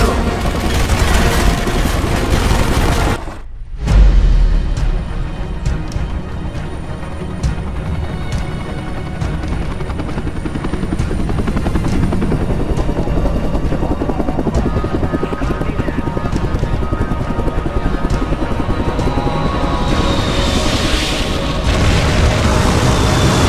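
Aircraft fly a bombing run in Terminator Salvation: a loud, steady rotor and engine roar runs throughout, broken early by a deep boom and then scattered impacts and rattling fire.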